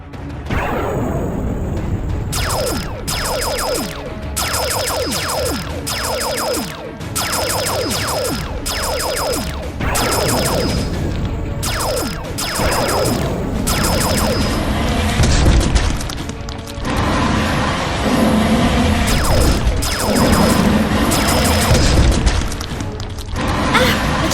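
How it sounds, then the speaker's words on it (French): Spaceship cannons fire in a rapid series of loud booming blasts, with regular bursts repeating across the span, some spaced in rhythmic volleys. "TMTC et Pedro, chargez-vous des canons"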